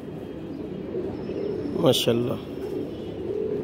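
Pigeons at a pigeon keeper's loft coo softly in the background, with a brief flutter or call near the middle while someone speaks a short phrase.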